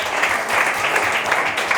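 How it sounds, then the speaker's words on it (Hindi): A church congregation at a Sunday service claps loudly together in a dense, steady burst of applause with no talk over it. "आइए जोरदार ताली बजाएं और प्रभु की महिमा करें"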